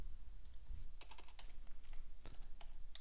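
Steady computer keyboard typing while TypoScript code is written, a close run of quick key clicks in irregular bursts with no voice.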